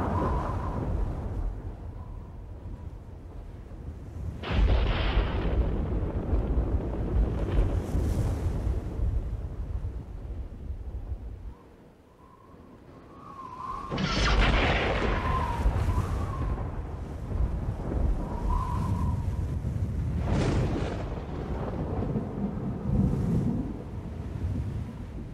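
A thunderstorm rumbles, with deep rolling thunder and blustery wind. Loud cracks and surges break in at intervals across the scene, with a brief quiet lull midway before the roar builds again.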